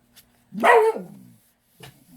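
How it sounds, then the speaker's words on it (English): A dog at home gives one loud, close bark, followed about a second later by a shorter, quieter yip, with silence around both. "The neighbor is doing their lawn, and the dogs have been barking like crazy."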